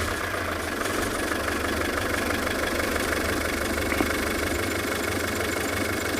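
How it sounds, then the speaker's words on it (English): Safari vehicle engine idling close by at dusk, a steady low rumble with an even, constant level and no talk. "It is said they like the sound of the vehicle."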